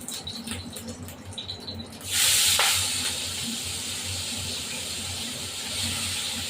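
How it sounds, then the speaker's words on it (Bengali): Prawns dropped into hot oil burst into a loud, close sizzle about two seconds in, then settle into a steady hissing fry that continues to the end, following quieter kitchen sounds. "এই চিংড়ি মাছগুলো একটু ভেজে নেব এই চিংড়ি মাছগুলো ভাজবো"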